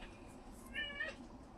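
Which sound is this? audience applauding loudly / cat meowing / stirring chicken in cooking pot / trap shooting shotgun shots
cat meowing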